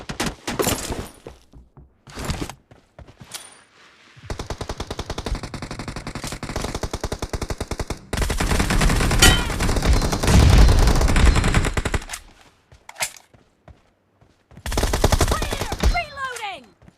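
Bursts of automatic machine-gun fire in a video game shooter, several rapid volleys separated by short pauses, loud and close, with sharper single shots and a brief shatter near the end; no speech.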